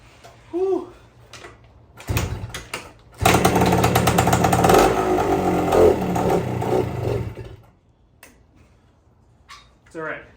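A 1969 Yamaha 125 motorcycle engine bursts into a loud, rough running roar for several seconds, then drops away, with brief voices before and after.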